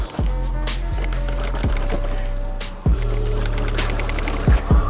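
An e-bike bumps down a flight of stairs, each step landing as a sharp thud over the rattle of its suspension and frame, hitting roughly once a second with a quick double jolt at the end.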